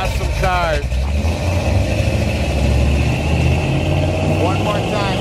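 A 1970 Ford Torino V8 revving at a used-car dealership, deep rumbling idle swelling into a throaty rise and easing back, loud and close, with someone talking over it.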